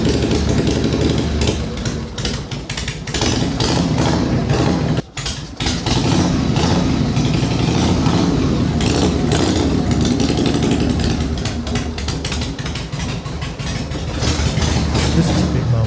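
A rebuilt chopper motorcycle engine runs loud and close after a jump start, a steady rough rumble with one brief dip partway through.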